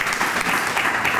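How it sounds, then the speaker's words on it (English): An audience bursts into a round of applause at a preschool community gathering of 16 schools; dense, steady clapping fills the whole short burst with no voices over it. "It's a round of applause."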